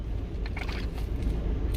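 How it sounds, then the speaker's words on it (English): Cars queue in a drive-thru line with their engines idling, a low steady rumble that continues without a break and sits under faint higher background noise. "over 17 cars now waiting in line"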